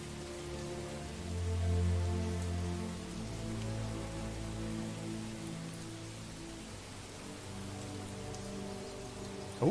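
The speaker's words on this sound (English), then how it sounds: "just the rain and stuff" Rain falls in the medieval city builder game Manor Lords, a soft steady hiss of drops over a low droning ambient backdrop, continuous and gentle throughout.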